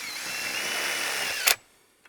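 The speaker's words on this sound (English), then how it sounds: "We just need to drill into the rod itself." A power drill screws into a thick steel pole, a steady high-pitched whine that runs continuously, ending in a brief sharp burst as the motor stops, then near silence.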